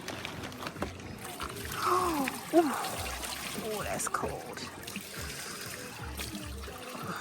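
Water flowing over limestone at Dunn's River Falls in Jamaica runs steadily through the whole stretch, with people talking loudly over it and a brief splash or pour near the middle.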